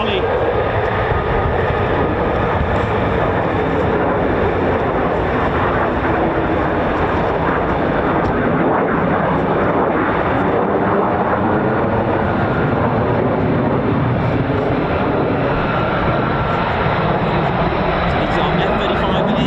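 F-35 fighter jets at RAF Lakenheath, a USAF fighter base, producing a continuous loud jet engine roar that holds steady throughout, with people talking over it.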